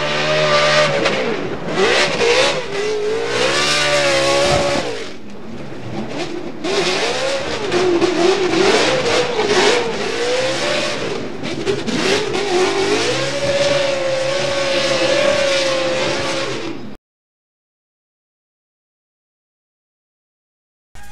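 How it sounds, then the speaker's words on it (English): Ford Mustang RTR Spec 5 drift car at a Formula Drift event in Seattle, engine revving hard and wavering with tire noise for about seventeen seconds, loud and close, then abrupt silence. "listen to the AutoZone Mustang RTR Spec 5 FD"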